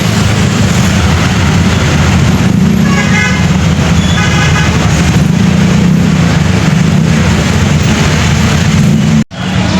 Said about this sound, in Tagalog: Traffic dito sa bayan.